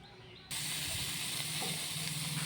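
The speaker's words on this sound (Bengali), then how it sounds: "এদিকে কড়াইতে চিনি গরম করা হচ্ছে, মানে কেবল গলতে শুরু হয়েছে চিনিটা।" Sugar heating and just starting to melt in a wok for a sweet raw mango chutney gives a steady, faint hiss that begins abruptly and carries on evenly.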